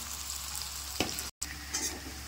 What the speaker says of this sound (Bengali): ওখানেও পেঁয়াজটা একটু ভাজা হোক, অল্প একটু লাল লাল হোক